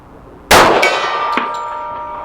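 A steel gong target, painted silver, is struck by a .45 ACP bullet from a Savage 1911 pistol at 50 yards. It gives one sharp metallic clang that rings on with a long shimmering decay, plus a faint second tap shortly after.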